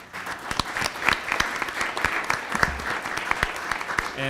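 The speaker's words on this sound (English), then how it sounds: "So a round of applause." At a school district governing board meeting, attendees give a brief round of applause, lively scattered clapping from a modest crowd with a few sharper claps standing out close by.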